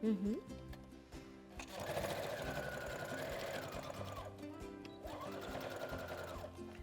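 A sewing machine stitches fabric in steady, loud mechanical runs, pausing briefly between two bursts. Someone talks quietly underneath.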